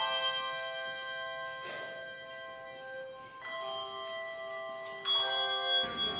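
Anglican church bells rung by a bell-ringing group, with successive strikes whose long ringing tones overlap and sustain, moderately distant and fairly quiet, no talking.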